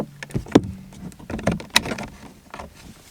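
Plastic clicks and scrapes as a flathead screwdriver pries a window switch button off a Mercedes door panel, several short sharp snaps close up, with no talking.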